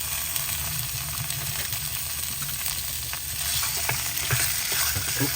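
Pork soft-bone ribs stir-fried with khua kling curry paste, a steady close sizzle with scraping stirs that grow busier and louder toward the end.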